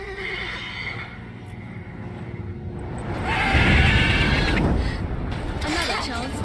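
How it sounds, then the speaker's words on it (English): A mare in The Witcher 3: Wild Hunt lets out a loud, close whinny midway through, rising and trembling before fading amid creaks and game ambience. "Worthy of the best horse. The mare is yours."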